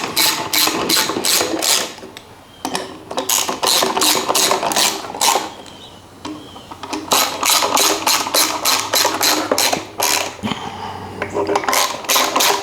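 Ratchet clicking rapidly in repeated bursts while valve cover bolts are hand-tightened on a flooded Mercruiser boat engine, loud and close, with brief pauses between runs.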